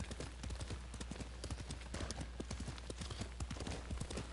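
Rapid, steady clip-clop of hooves from a summoned horse galloping in the video game Ghost of Tsushima, close and continuous, over a low constant rumble.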